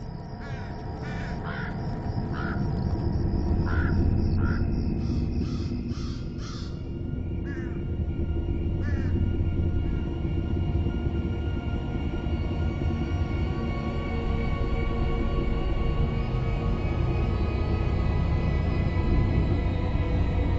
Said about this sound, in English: The crows begin to group as the day's light grows weaker.